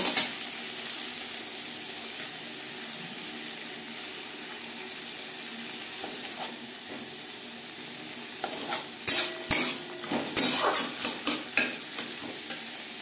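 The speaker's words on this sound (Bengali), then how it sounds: "খুবই সামান্য পরিমাণে বিনস। দু তিন মিনিট ভেজে নেব।" Beans and peas sizzle in a pan for winter-vegetable fried rice, a steady low frying hiss that runs throughout, with clusters of sharp stirring scrapes and clatters near the end.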